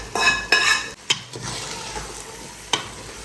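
Minced keema fries with onions, green chilies and ginger in a pan, giving a steady sizzle broken by scraping stirs and the clink of a spatula against the metal, close and without talk.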